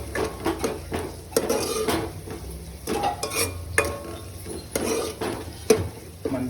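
A spoon stirs spiced masala in a pan for Telugu-style fish curry, chepala pulusu, with repeated scraping and clinking against the metal, an irregular rhythm of strokes over a faint sizzle, close and fairly loud.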